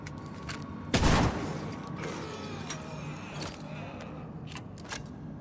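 A single loud shotgun blast in the survival horror video game Tormented Souls II, followed by mechanical creaks and clicks of the weapon and faint scattered taps against a low steady background, with no talk.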